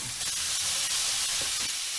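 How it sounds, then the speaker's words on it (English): Pieces of beef for a slow-cooker stew browning in a hot pan, giving a continuous, even, close hiss and sizzle without pauses. "I will finish browning this meat and show you the next step in just a minute"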